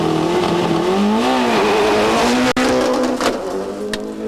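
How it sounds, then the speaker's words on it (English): Subaru rally car racing at the 1994 Rally New Zealand, its engine loud and close with sustained high revs rising and falling through gear changes, a brief drop in sound midway, then easing as it passes. "Karkinen had no reply to the speed of the Subaru or the Flying Scotsman"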